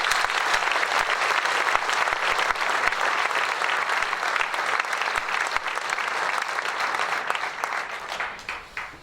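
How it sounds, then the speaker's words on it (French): Audience at a French political campaign rally in a hall applauds warmly, a dense continuous wash of many hands clapping that holds steady and then thins slightly toward the end, with no speech over it. "Merci, vous pouvez les applaudir."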